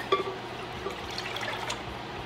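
Whole milk pours into a pot on a cooktop, a soft continuous liquid splash and trickle for a couple of seconds, close and fairly quiet with no talking.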